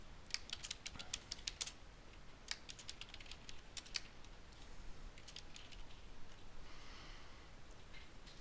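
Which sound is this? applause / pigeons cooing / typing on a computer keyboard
typing on a computer keyboard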